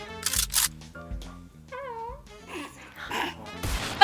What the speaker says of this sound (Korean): 방금 전에 뭐 강아지 소리가 났는데.